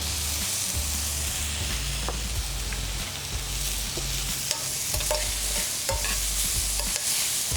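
Pork with salt and garlic sizzles and fries steadily in a hot pan, a dense, continuous crackle with occasional stirring clatter, close and loud without any talk.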